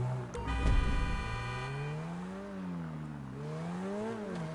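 Loud car engine in GTA Online on PS5, a steady harmonic drone that rises and falls in pitch as the car is driven at night, with a brief burst of noise near the start.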